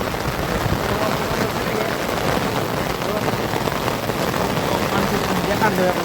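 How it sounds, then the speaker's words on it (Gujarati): Heavy rain pours outdoors in a dense, unbroken hiss that stays loud and even from start to finish, with no pauses. "બહુ વરસાદ આવે છે"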